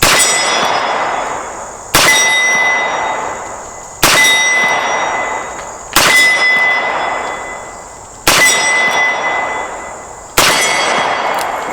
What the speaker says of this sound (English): I'm shooting 15 yards at a 10-inch plate.